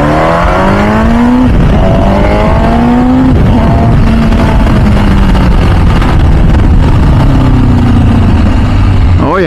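An MV Agusta F4 Tamburini motorcycle pulls away in first gear, its engine loud and close with rising revs and gear-up pitch sweeps over constant wind rush, a rider's voice briefly mixed in.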